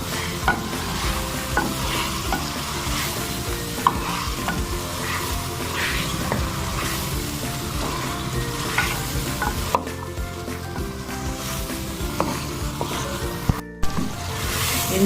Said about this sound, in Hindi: इन पाँव को अब हम तब तक भूनेंगे जब तक ये ऑयल ना छोड़ दे।